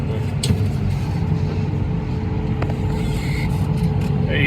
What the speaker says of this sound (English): let me stop this tractor real quick